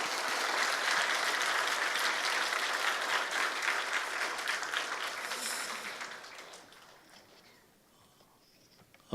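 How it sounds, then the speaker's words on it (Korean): A large church congregation claps loudly and continuously, the applause gradually thinning and fading away toward the end. "우리 큰 박수로 하나님께 영광의 박수 돌리겠습니다."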